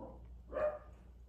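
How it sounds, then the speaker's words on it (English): A single short dog bark sounds at moderate distance indoors, a brief muffled woof rising out of a quiet low background hum, with no other barks following. "my dogs are just having a time right now, but I'm just letting them be dogs."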